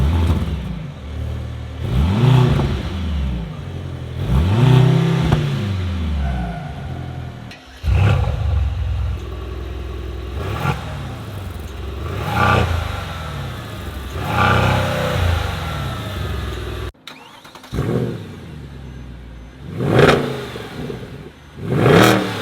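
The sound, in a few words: Mercedes-AMG C63 cars revving engines, sound check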